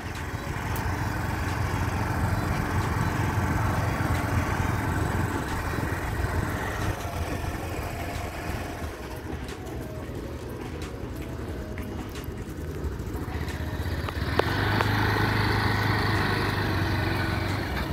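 Scooter engine held at a steady throttle while riding, a continuous buzzing drone with some wind rumble, fairly loud and unbroken throughout.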